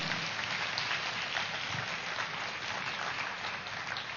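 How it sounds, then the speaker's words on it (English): An audience at a youth festival claps in a steady, dense patter that holds for the whole stretch, heard from a distance and fairly soft, with no one speaking. "So big round of applause for all of them."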